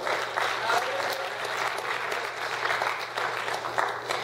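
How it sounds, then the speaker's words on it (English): A church congregation claps hands during an Apostolic sermon, a steady, fairly loud wash of many hands clapping continuously throughout, with a low hum underneath. "Would you clap your hands unto the Lord?"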